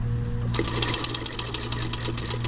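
A Singer Featherweight 221 sewing machine stitches with a bias binder foot, starting after a faint hum and settling into a fast, even mechanical chatter that stays close and steady, with no talking.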